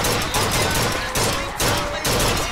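Loud, rapid gunfire in the video game Bioshock Infinite, with bursts of automatic shots close up that fill the whole stretch without pause.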